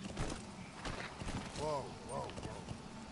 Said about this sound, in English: We'll just call the horse.